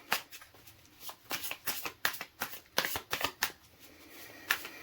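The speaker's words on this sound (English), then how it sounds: "Let's look at some more tarot cards from a different deck." A deck of tarot cards being shuffled up close, with a quick series of crisp riffling bursts and short pauses between them, heard alone without talk.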